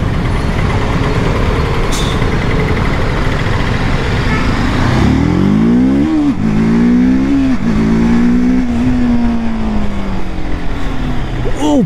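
A TVS Apache RTR 310 motorcycle accelerates hard from about midway, its engine note climbing through several rising revs and shifts over a heavy rush of wind noise.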